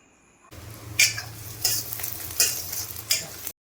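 Moringa pulp roasting until lightly browned in a pan, with a steady close sizzle and several scraping stirs of a spoon against the metal at irregular intervals, no voices.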